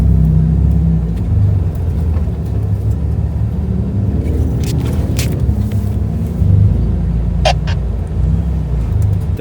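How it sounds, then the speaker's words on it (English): A 2025 Ford Raptor pickup rumbles through a rock crawl, its engine a loud, close, low drone with slight revving swells and a few sharp knocks and clatters from the rocks partway through. "We started off our truck parkour with a rock crawl."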